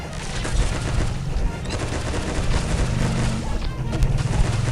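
Rapid automatic water-gun fire from the Waterman's Rifle in Pixel Gun 3D, a dense continuous burst of shots with booming low thuds, loud and close, lasting the whole stretch.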